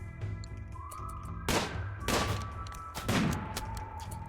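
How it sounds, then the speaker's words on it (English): Sniper rifle fire in a RimWorld raid, with shots deflected by a flak vest: three sharp, loud cracks spaced about a second apart over a steady game background. "Another deflected sniper shot."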